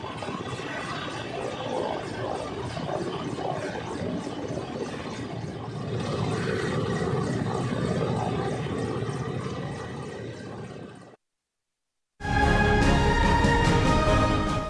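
An army rescue helicopter working at a ropeway accident site, a steady loud rotor and engine drone, with a brief drop-out before it resumes strongly.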